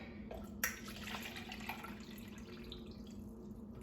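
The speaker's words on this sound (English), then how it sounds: "pour my already fermented water kefir in here and kind of strain it out" Fermented water kefir pours through a strainer, a close trickling and splashing of liquid with scattered drips and a few light clinks, fairly quiet overall.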